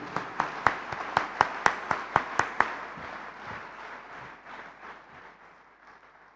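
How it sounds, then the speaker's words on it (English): An audience at an ethics and sports summit claps for Sri Kiran Rijiju, Minister of Law and Justice of India, opening with a sharp run of close, rhythmic claps that thins into softer, scattered clapping fading away. "Let's give a grand applause to Sri Kiran Rijiju."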